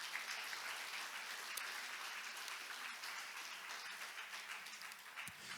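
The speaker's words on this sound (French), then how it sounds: "applaudir le Dieu Tout-Puissant" Dense congregational applause fills a church service, a steady broad wash of many hands clapping at a distance, fairly soft and continuous with no voices over it.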